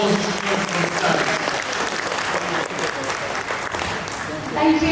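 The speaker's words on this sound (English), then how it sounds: "Please give her a big round of applause for the stage." A crowd claps steadily for the Minister for Multicultural Affairs as she walks to the stage, full and sustained applause with some voices underneath.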